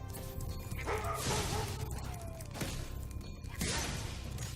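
Small dog enemies bark and yip in Spyro Reignited Trilogy, several short barks spread across a few seconds over steady game music and effects.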